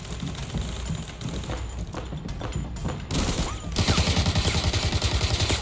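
Gunfire in the Arena Breakout video game: scattered close shots at first, then a loud, sustained burst of rapid automatic fire in the final seconds.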